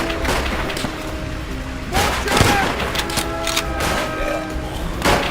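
Rapid bursts of MG machine gun fire crackle over a dense Call of Duty: World at War soundscape, with scattered thuds and sharp impacts throughout.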